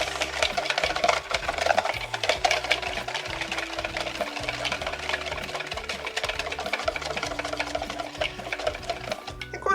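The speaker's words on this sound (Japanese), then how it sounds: "さらにすり混ぜます。" A cake batter mixture is creamed in a bowl, a steady rhythmic scraping and stirring with a continuous mechanical hum underneath, close and moderately loud.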